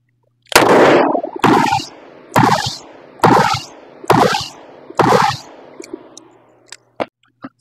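Six sharp, loud gunshots from a 6-inch Ruger GP-100 revolver at a 50-foot range, fired in a steady rhythm just under a second apart, each with a short ringing tail, followed by a few faint clicks.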